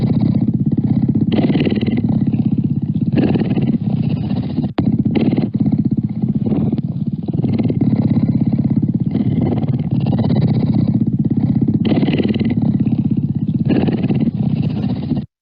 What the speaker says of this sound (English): cougars do purr just like domestic cats do.